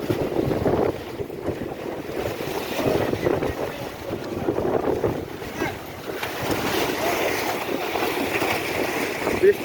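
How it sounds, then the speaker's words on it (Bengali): Strong wind with rain sweeps through Mecca, Saudi Arabia, where shop tarpaulins are being blown about; a loud, steady roar of gusting air and wind buffeting on the microphone runs through the whole stretch. "প্রচুর জোরে বাতাস হচ্ছে আর বৃষ্টি হচ্ছে সাথে"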